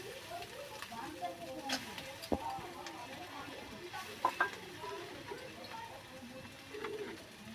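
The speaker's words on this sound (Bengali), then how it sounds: "আমি এবারে এই খোসলা বাটাটা মিশিয়ে দেব" Fried ivy gourd being stirred with khosla paste in a pan, with soft scraping and light sizzling at a steady low level, a few sharper clinks of the utensil against the pan, and faint birdsong in the background.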